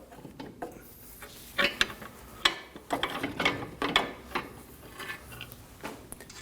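A hand ratchet clicks in short, uneven bursts while snugging a castle nut onto a front ball joint of a 2003-2006 Subaru Baja, close and fairly quiet with pauses between strokes.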